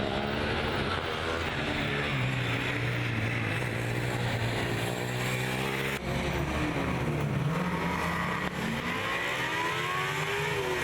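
A Formula Student race car at the 2016 Formula Student Germany endurance event takes a victory lap, its engine loud and steady as it rises and falls in pitch through gear changes while passing close by.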